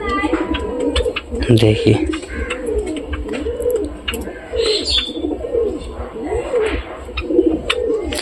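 Pigeons in a home loft coo repeatedly in soft rolling phrases close by, with occasional wing flutters and chirps, while someone speaks over them.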